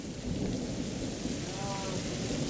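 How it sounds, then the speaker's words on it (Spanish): Steady dense roar of volcanic eruptions during an ashfall, a continuous, fairly loud low rumble with no distinct breaks and no talking. "No son truenos, son las erupciones."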